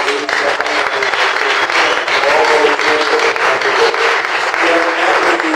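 A Pentecostal church congregation at a Sunday service applauding together in a dense, sustained roar of clapping that stays loud and even throughout, with voices mixed in beneath.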